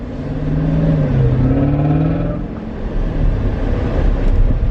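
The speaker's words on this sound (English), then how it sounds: "Sorry for the air conditioning noise, people." Car air conditioning blows steadily inside a vehicle on a hot day, a loud continuous whooshing roar with low engine hum underneath, unbroken throughout.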